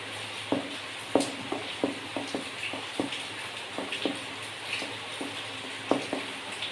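Palm pulp batter being mixed with flour and salt in a bowl for Bengali palm fritters, giving soft, irregular scraping and stirring taps close by, with no voices.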